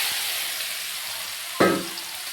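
Elephant apple tipped into hot oil with panch phoron and dried red chillies, a steady close sizzle that bursts louder as the fruit hits the pan, then settles into continuous frying.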